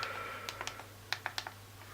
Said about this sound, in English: Typing is as easy as it would be on a normal physical keyboard.